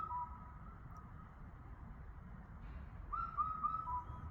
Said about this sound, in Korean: 저게 바로 검은등 뻐꾸기 소리입니다